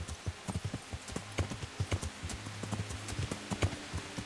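Horse hooves clip-clopping in the video game Kingdom Come Deliverance, a quick, uneven run of close hoofbeats on hard ground keeping a steady trotting rhythm throughout.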